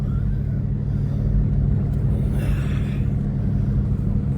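A car engine rumbles steadily on a road at night in snowy, low-visibility weather near Abana, a continuous low drone that swells slightly midway without any distinct pass-by.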